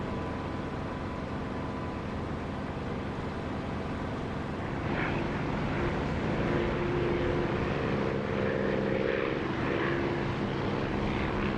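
A propeller aircraft engine drones steadily in the DCS flight simulator game, a loud continuous hum with a slight rise in pitch and a light whine partway through.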